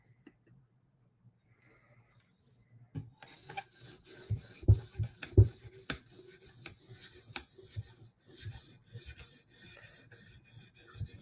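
A blade is drawn over a 400 grit sharpening stone, starting after a quiet opening as a series of close, rhythmic rasping strokes with uneven loudness.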